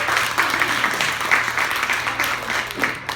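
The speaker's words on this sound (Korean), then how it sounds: "박수 좀 보내요." Audience applause at a church seminar, a steady dense patter of many hands lasting a few seconds at moderate level over a faint low hum.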